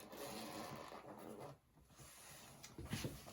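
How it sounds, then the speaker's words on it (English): A zipper is drawn slowly around the canvas cover of a 1970s vintage Jaeger violin case, making a soft, continuous rasping scrape that stops briefly midway and resumes, quiet and close. "Unzippering the canvas cover all the way around, two zippers on either side."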